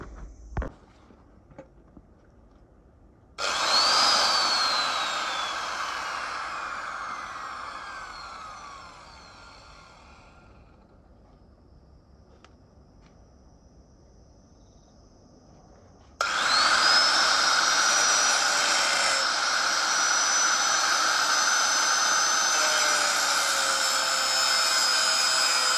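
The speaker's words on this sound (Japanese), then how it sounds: "こちらのステンレス用のサンダーでここを切っていきたいと思います。" An angle grinder with a stainless-steel blade cuts into stainless steel on a homemade sissy bar for a DS400 chopper build. The loud sustained whine and screech drops for a while, then comes back strongly and stays near.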